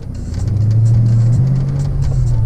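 A 1991 Ford Mustang GT 5.0 Foxbody being driven, its V8 giving a steady close mid-low engine hum with a slight pitch rise partway through.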